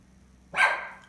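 A dog lets out a single short bark, fairly close and loud, after a quiet stretch with faint low hum.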